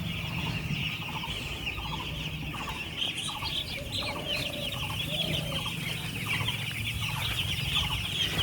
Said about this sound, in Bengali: পাখি খাচ্ছে, জল খাবার দিয়ে দিয়েছি।